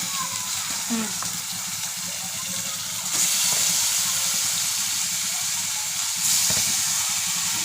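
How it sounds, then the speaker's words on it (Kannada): Chicken going into a hot pan with onion and ginger-garlic paste, a loud continuous close hiss and sizzle that swells in two bursts as pieces hit the oil. "ಇವಾಗ ಚಿಕನ್ ಹಾಕೋತೀನಿ"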